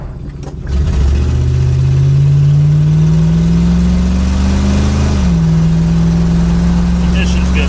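A 1970s Lincoln luxury car engine catches after an ignition fix. It rises from quiet into a loud, steady running note that climbs slightly, then drops and settles into a smooth idle close to the microphone.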